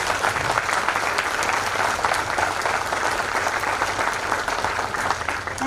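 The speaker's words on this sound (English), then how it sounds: "I request everyone to give a big round of applause for my wonderful" A conference audience at a valedictory session claps in sustained, dense applause that fills the room evenly and at full volume, with no pauses.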